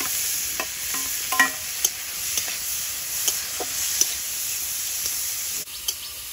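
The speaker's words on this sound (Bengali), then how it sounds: "কড়াইতে তেল দিয়ে দেব, তেলের মধ্যে চিংড়ি মাছটা দিয়ে দেব" Prawns fry in oil in a kadai with a constant close hiss of sizzling, broken by occasional soft scrapes and clicks of stirring, and no one speaks.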